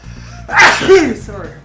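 A single sharp sneeze bursts out mid-conversation, loud and close, and a speaker's brief spoken apology follows right after it.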